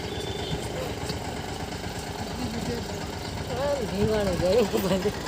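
A Mahindra Bolero engine idles in a low, steady rumble outdoors in a rural setting, partly masked by people talking nearby.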